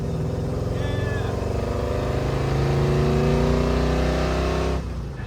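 A 1958 Plymouth barn find engine drones steadily while cruising on the highway, a loud close low rumble with rising pitch as it pulls along, then easing off at the end.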